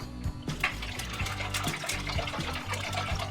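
Water pours steadily into a bowl, a continuous splashing gurgle up close with small knocks underneath.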